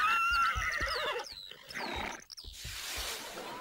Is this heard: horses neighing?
yes